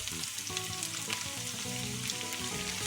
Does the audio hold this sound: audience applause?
no